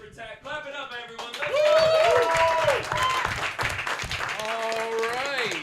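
Applause and cheering from a comedy roast battle audience in New York rise under loud music with a singing voice, crowd noise mixed behind the tune rather than standing alone.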